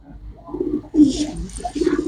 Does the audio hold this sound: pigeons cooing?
yes